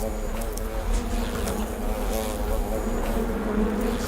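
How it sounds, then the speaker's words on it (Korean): Hairy hornets swarm around their large papery nest built under a house eave in the city, a dense, continuous close buzzing with individual wingbeats droning in and out. "주로 인가의 처마 밑에 집을 짓는 이 털보 말벌은 도시에서 가장 많이 출몰하는 말벌 중"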